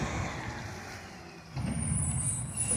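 A municipal garbage truck pulls up on a street, a low engine rumble rising as it arrives, followed by a hissing air-brake release.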